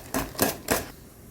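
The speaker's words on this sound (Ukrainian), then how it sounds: "Збиваємо все разом вінчиком" Three quick bursts of brisk scraping strokes of a whisk beating cookie batter with margarine, evenly spaced, then quiet; close and fairly loud, no voices.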